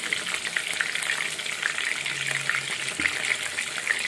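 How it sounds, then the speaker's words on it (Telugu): Whole gutted fish frying in hot oil, a steady bright crackle and sizzle running continuously at close range with small pops and bubbling throughout, no voices. "ఆయిల్ పోస్తున్నాం దానిపైన."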